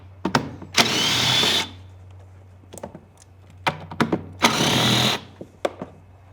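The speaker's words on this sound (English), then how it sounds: "we're going to use a 10 millimeter socket to remove these two bolts" Ratchet and socket clicks from a 10 mm socket removing two bolts from a scooter seat bucket, with two sustained bursts of a power driver running between short sharp metallic taps, nearby and fairly quiet, no talking.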